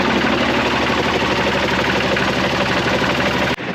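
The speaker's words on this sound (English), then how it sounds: "Okay, so I just fired up the engine again." Steady marine engine idling aboard a 70-foot classic Fife yawl, a dense, even mechanical drone with low throb held at constant loudness throughout, cutting off abruptly near the end.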